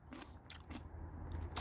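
Teeth bite into a crunchy Chinese green melon, giving several crisp, close crunches spread over a second and a half against a quiet background, with no speech.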